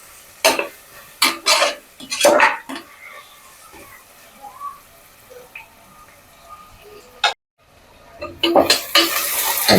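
A spoon or ladle scrapes and clatters against a pan while biryani masala with mint is stirred, in irregular bursts of loud scraping separated by quieter gaps with faint sizzling, up close.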